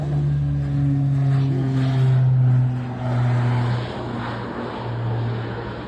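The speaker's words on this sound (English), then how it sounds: "You could tell when it's an Allison engine with the noise." A propeller airplane with Allison engines passes by at a small airport, its steady droning engine hum swelling and easing as it moves past, with several sustained low tones throughout and no talk.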